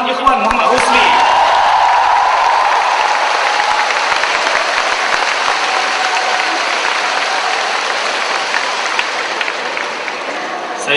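Audience at a Malay-language debate competition final applauds, a broad wash of clapping that holds steady for over ten seconds, loud and fairly near, slowly thinning toward the end.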